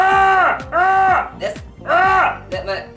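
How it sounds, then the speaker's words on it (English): A person lets out several high-pitched, strained shrieks in quick succession, each rising and falling, with short breaths between them. "my scream sounds like this"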